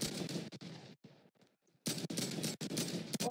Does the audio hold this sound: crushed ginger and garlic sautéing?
no